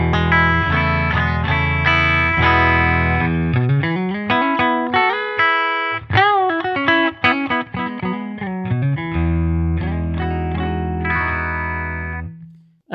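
Clean electric guitar, a PRS S2 McCarty 594 Singlecut with its bridge pickup coil-split, played through a 20-watt amp; strummed chords, then melodic single-note lines and ringing notes, loud and close, with no talk.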